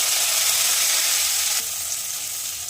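Finely chopped onion hitting hot oil in a pan for a drumstick, peas and potato curry, giving a loud, steady broadband sizzle that drops slightly in level partway through and continues alone.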